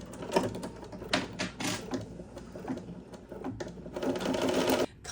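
Embroidery machine stitching a placement outline on vinyl, a rapid mechanical needle chatter in close bursts with short pauses between runs.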